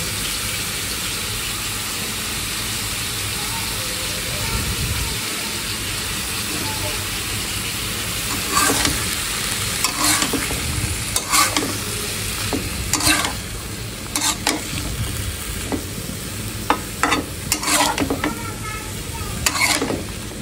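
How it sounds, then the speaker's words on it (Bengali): Green tomatoes fry in a pan with a steady close sizzle and hiss, broken in the second half by repeated scraping and stirring strokes, with faint voices in the background. "কাঁচা টমেটো ভাজি করবো।"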